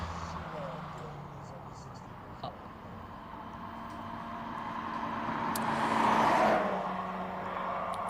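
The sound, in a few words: Suzuki Swift Sport race car driving up hillclimb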